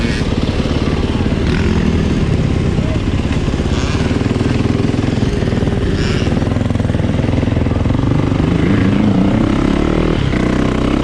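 A 2020 Yamaha YZ450FX dirt bike engine idles and revs close by, a loud, rough, rapid four-stroke chatter that stays strong throughout.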